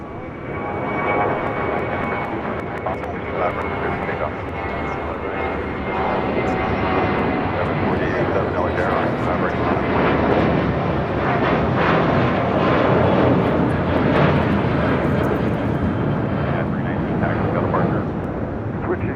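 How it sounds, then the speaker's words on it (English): A United Dreamliner airliner rolling down runway 25 right at LAX toward Terminal 7, a loud steady engine roar sustained throughout, with a commentator talking over it. "Now rolling down 25 right is that United Dreamliner now heading over to Terminal 7"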